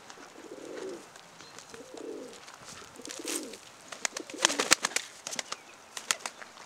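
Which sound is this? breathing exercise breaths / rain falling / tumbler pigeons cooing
tumbler pigeons cooing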